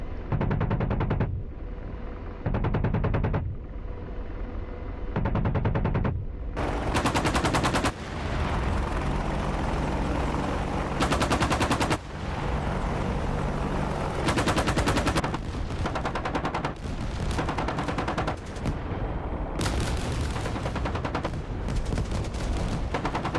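An Apache helicopter's cannon fires at infantry in DCS World, loud rapid bursts of automatic fire separated by brief gaps and building to near-continuous shooting, with no talk.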